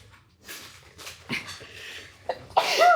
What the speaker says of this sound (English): Sorry, I sneezed all over myself.